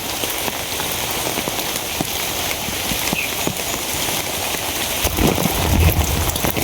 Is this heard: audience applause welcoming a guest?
no